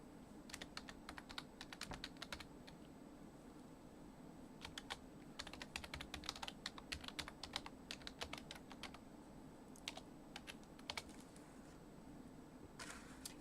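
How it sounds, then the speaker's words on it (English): A computer keyboard is typed on in quick, light clusters of keystroke clicks with brief pauses, heard faintly over a steady low background hum and without any voices. "I'll just type it in for you, Dawn, okay?"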